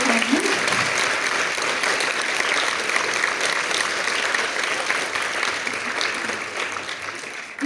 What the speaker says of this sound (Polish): Wielkie, wielkie brawa poproszę dla trenerów